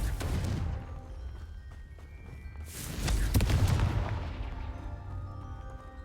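A Confringo blasting spell in the Hogwarts Legacy video game, two booming blasts about three seconds apart, the second louder and longer, with a rumbling tail.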